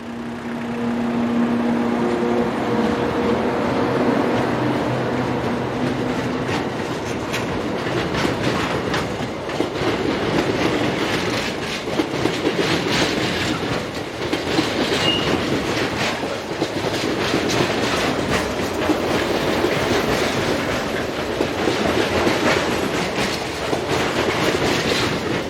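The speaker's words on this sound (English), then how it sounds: "we see dual voltage BB22200 locomotive number 22377 on a container train bound for the nearby terminal" Dual-voltage BB22200 locomotive number 22377 hauls a container train, giving a continuous loud rumble of wheels and wagons with clickety-clack rail joints passing close by for the whole stretch.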